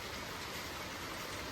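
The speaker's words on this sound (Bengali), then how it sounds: "কি বৃষ্টি" Steady rain falling on a surface, a continuous broadband hiss of drops with no voices, moderately faint and even throughout.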